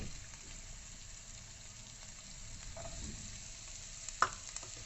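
Onion and grated carrot sautéing in a pan make a faint, steady sizzle with soft stirring scrapes and a brief clink near the end.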